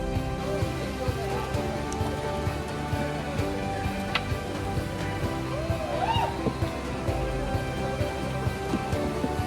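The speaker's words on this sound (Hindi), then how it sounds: "4 घंटे की ट्रैक के बाद हल्की हल्की बारिश स्टार्ट हो गई है" Light rain patters steadily along a mountain trekking trail in the Himalayan hills, a soft continuous wash of droplets with faint voices murmuring in the background.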